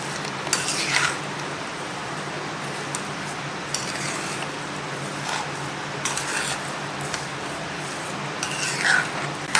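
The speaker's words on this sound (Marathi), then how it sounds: "दूध आटेपर्यंत आणि साखर विरघळेपर्यंत, त्याचा घट्ट गोळा होईपर्यंत हे सतत ढवळत राहायचं" Milk, sugar and grated coconut are stirred continuously in a pan over a low flame, a steady soft simmering hiss with repeated scraping and light spoon clinks against the pan.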